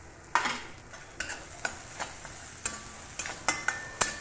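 Spiny gourd pieces frying in a pan, with a soft steady sizzle broken by about ten sharp scrapes and clinks of a stirring utensil at an uneven, roughly half-second rhythm, close and alone without voices.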